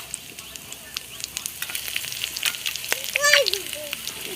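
Whole cardamom, cinnamon, cloves, green chillies, dried red chillies and cumin sizzle and crackle in hot oil, with scattered pops over steady frying. A louder burst of spluttering comes near the end, and faint voices sound in the background.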